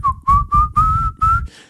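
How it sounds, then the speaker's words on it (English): A whistled melody opens a song, with five clear, steady notes in a bouncy rhythm, loud and close, each note held briefly over a soft low thump of backing. "when I hear that opening whistle"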